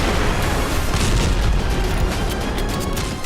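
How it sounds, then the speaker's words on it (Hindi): Drone attack explosions in a Russian town, captured in news footage, come across as a dense, loud, continuous roar of booming noise throughout with no voices. "हवा में नष्ट होते ड्रोन के धमाकों के बीच मोरोजोवस्क की जमीन पर भी कई धमाके हुए।"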